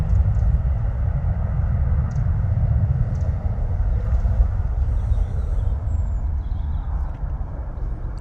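A Ryanair airliner departs London Stansted Airport, its steady broadband jet roar lasting throughout with wind buffeting the microphone.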